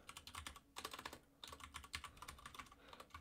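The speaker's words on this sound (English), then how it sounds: "So I have to type this." A code being typed on a computer keyboard: quick, close key clicks in two dense bursts split by a brief pause, with no voice over them.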